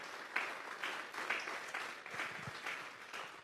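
Sustained applause from a church congregation praising the Lord during a Sunday sermon, a steady wash of many hands clapping at moderate volume with no voices over it.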